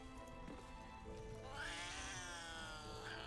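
A cat in Baldur's Gate 3 lets out a drawn-out, wavering meow that rises into a loud caterwaul and then a second shorter cry, heard clearly over quiet game ambience.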